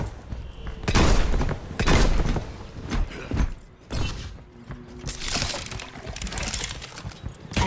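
Automated turret in the Overwatch video game firing in dense, repeated bursts, with loud crackling volleys and mechanical clatter filling a busy battlefield mix.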